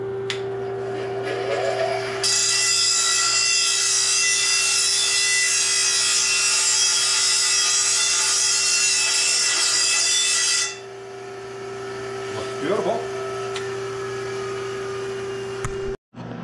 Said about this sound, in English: I'll grind off all the galvanizing on the grinder.